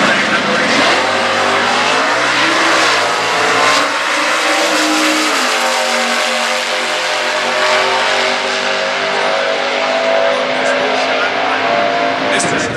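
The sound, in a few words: 1971 Mustang with 429 cubic inch big block engine drag racing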